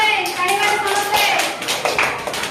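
Several hands clap in a loose, repeated rhythm close by during a children's group activity, with voices calling out over the claps.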